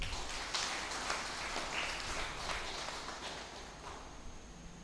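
Congregation clapping in thanks after Mass, a soft, distant patter of many hands continuing evenly for several seconds without speech.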